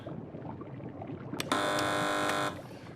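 A single loud, harsh game show buzzer on a TV panel quiz show blares for about a second over faint background murmur, cutting off sharply.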